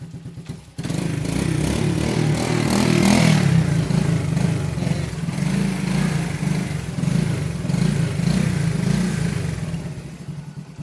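A small four-stroke motorcycle engine idles steadily, a low chugging rumble with a brief rise in revs, running alone without voices.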